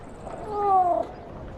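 A single cat meows once in an audio drama, a short soft mew that rises and falls over about half a second against a faint background hiss.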